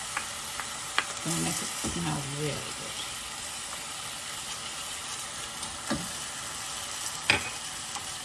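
Garlic sizzles in a pan for a Tuscan chicken dish, a steady soft frying hiss with a few sharp utensil clicks, while a person speaks briefly over it.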